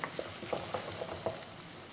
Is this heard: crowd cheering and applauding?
no